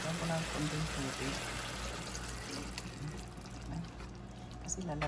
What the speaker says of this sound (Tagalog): Lagyan ko ng konting tubig.